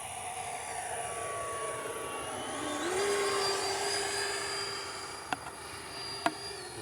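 Freewing Ares 90mm electric ducted fan RC jet on 8S power making a gear-down pass, a steady high whine that rises in pitch and holds, moderately distant, with two short clicks near the end and no talk.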